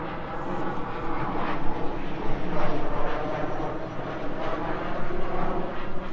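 A propeller airplane passes overhead, its steady droning engine rumble filling the background at moderate loudness through the whole stretch, swelling slightly midway, near a Toyota Tacoma being worked on during a body lift.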